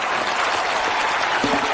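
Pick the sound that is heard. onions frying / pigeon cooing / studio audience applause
studio audience applause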